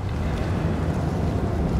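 Wind in the game Skyrim blows in a steady, full-bodied whoosh with low rumbling gusts, continuous and fairly loud across the short stretch, with no voices.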